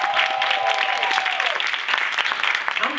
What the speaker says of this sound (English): So y'all, let's give them applause for this